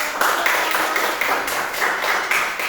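A classroom audience claps for a student group that just finished its presentation, a steady burst of many hands that is loud and close throughout, with a faint voice underneath.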